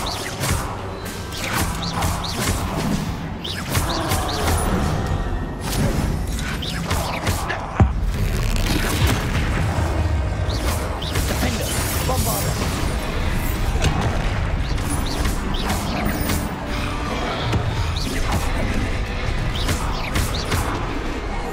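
Bombarda explosion spells go off during a battle in Hogwarts Legacy. Loud, dense crashes and booms sit in a constant clamour of combat, with a sharp impact partway through.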